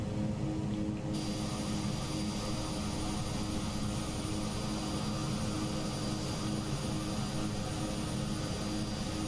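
Aerosoft Twin Otter on skis in Microsoft Flight Simulator 2020 produces a steady, loud turboprop engine drone with a constant high whine, running evenly and unbroken, with no talking.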